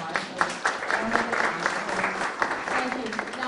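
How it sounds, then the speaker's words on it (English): An audience at a panel discussion gives a warm round of applause, a dense, fairly loud spread of many hands clapping with uneven peaks throughout, lasting several seconds. "I know we all want to give a round of applause"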